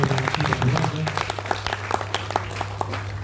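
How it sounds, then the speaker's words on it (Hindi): An audience at a mushaira poetry gathering in Meerut breaks into scattered applause, individual claps standing out over a steady hum, with voices murmuring underneath. "एक बार तालियां बजाकर इस्तेमाल किया।"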